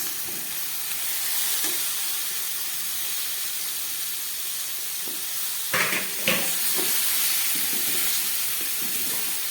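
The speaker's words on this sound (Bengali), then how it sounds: "এবারে আমি এর মধ্যে দিয়ে দিচ্ছি এই সিদ্ধ করে রাখা এঁচোড়টা" Boiled green jackfruit sizzles in a pan of fried tomato masala, a steady close hiss with a few louder scraping stirs partway through.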